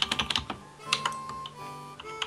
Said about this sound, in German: Hört man eigentlich die Tastatur?